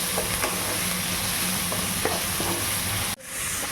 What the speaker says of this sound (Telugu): ఓకే, బాగా ఫ్రై చేయించుకోవాలి. సాల్ట్ చేసేసి so wait till it becomes golden colour.